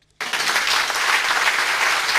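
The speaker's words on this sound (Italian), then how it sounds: "Un lungo applauso ha suggellato l'ingresso, l'insediamento ufficiale del nuovo presidente del Tribunale di Catanzaro, Lanfranco Vetrone" Long applause at the installation ceremony of a new president of the Tribunale di Catanzaro in the Palace of Justice, a sudden loud onset of dense crowd clapping that holds steady throughout.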